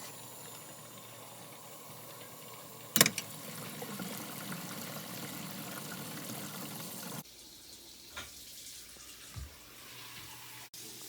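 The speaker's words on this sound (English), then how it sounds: "let me turn on the water." Water runs from a tap on a plumbing job, a steady close hiss of flow with a brief clunk near the start, then a quieter, thinner stream after a sudden drop with a few knocks.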